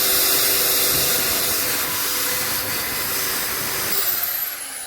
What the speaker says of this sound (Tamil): அந்த மார்க் பண்ண இடத்துல வந்து ட்ரில் பண்ணிட்டு